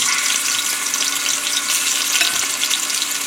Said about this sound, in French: c'est une feuille laurier que je mets dans l'huile